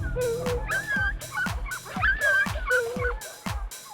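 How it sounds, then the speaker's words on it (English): Puppies crying in a looped sound effect from a 1959 film, short whimpering yelps and whines repeating in a rapid, regular cycle of about two per second, loud and close with no talk. "2 second loop of puppies crying?"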